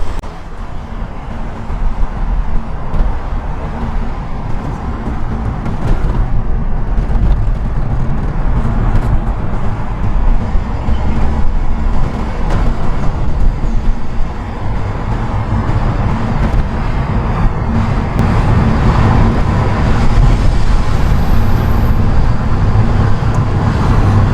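Inside a 15-year-old small supercar with an automatic transmission, a loud, steady engine and road roar continues, with gradual swells in intensity as the car accelerates and shifts smoothly.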